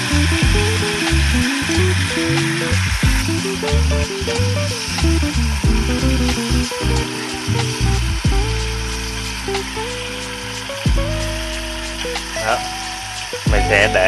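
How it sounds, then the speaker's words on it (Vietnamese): Pork belly searing in a pan over medium heat, a loud continuous sizzle and crackle of frying meat close by, with occasional stirring and a voice speaking over it. "sẽ để cho hai cái mặt thịt này nè, nó áp vô chảo"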